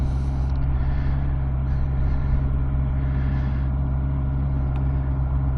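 A Honda CBR650R motorcycle with E-clutch idling in first gear, a steady low engine rumble that holds constant throughout with no talking.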